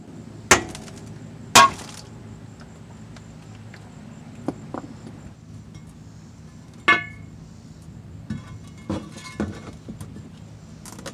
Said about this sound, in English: tapping this side with a hammer